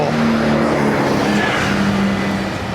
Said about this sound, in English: the cars and bikes tear along here at probably about 70k an hour normally